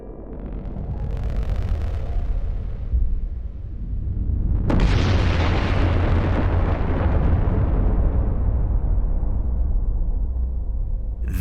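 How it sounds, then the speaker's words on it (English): A sound effect for a Type 1a supernova, an exploding star: a low rumbling swell builds, then a sudden massive blast erupts into a long, loud, roaring decay. "1a supernova, an exploding star"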